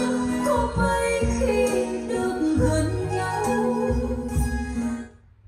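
High-quality music streams wirelessly over Bluetooth through a FiiO K7 DAC, a full, close instrumental mix with steady low bass notes and bright upper layers that fades out at the end.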